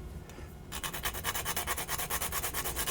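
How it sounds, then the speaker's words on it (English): Fresh whole nutmeg pod scraped across a small nutmeg grater, a quick run of regular rasping strokes, close and crisp, following a brief quieter moment. "I have here my nutmeg grater and brand new nutmeg pod"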